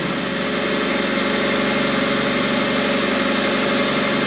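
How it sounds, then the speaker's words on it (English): An MP1340GT engine lathe runs with its spindle turning, giving a steady, even mechanical hum and whir that holds at a constant level throughout, close and fairly loud with no talk. "you can just tell by the sound of it when I start the spindle"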